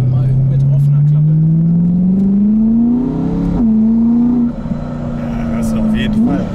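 Supercharged BMW E92 M3 coupé with G-Power tuning, driven with the exhaust flap open: a loud, steady engine drone rising in pitch under acceleration, then a brief shift dip and renewed pull, heard from inside the car.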